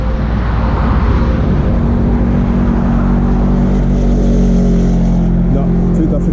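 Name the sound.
cars passing on a road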